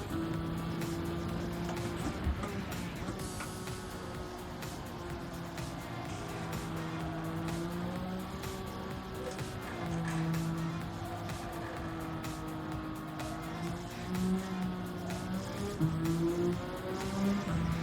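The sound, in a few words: race car engine and tires in Gran Turismo video game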